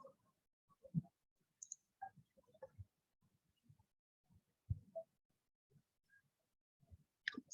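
Sparse computer mouse clicks at a desk, short sharp taps spaced irregularly against near silence, a few soft handling noises between them.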